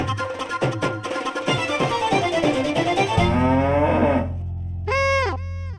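Low bellowing moos from a buffalo, a drawn-out call close by and loud, with a second rising call near the end; no speech.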